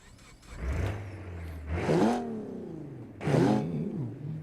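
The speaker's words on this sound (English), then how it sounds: "By the sound of it, I would say it's a boxer engine." A car with a boxer engine revs in an off-road Baja competition racing game, the engine note climbing and falling in a few sharp bursts, close and fairly loud.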